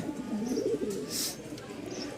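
Moyna flock pigeons coo in a low, rolling murmur through the whole stretch, fairly close, with brief higher chirps and a soft hiss of background noise.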